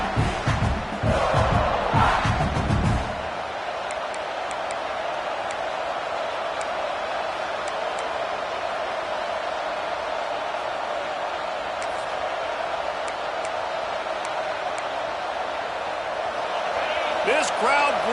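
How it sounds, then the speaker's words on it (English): A stadium crowd in the College Football 26 video game roars loudly, with commentary over it at first, then drops to a sustained background din that swells again near the end. "This crowd bringing the energy and noise early"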